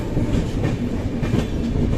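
An express train with mostly chair cars rolls past on the line between Amritsar, Jalandhar and New Delhi, a loud, close rumble of wheels on rails with steady rhythmic clatter and no voices.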